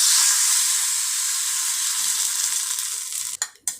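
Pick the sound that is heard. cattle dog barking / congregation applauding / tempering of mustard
tempering of mustard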